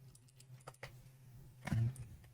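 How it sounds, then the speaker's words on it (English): A password is typed on a computer keyboard: quiet, scattered key clicks ending in a slightly louder tap, close by over a low steady hum. "Actually, let me type the pass 1, 2, 3, 4."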